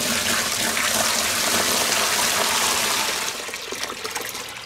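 Plain tap water gushing into a hydroponic reservoir being filled toward the 10-gallon mark for a Dutch bucket watermelon system, a loud continuous rushing pour that eases slightly near the end.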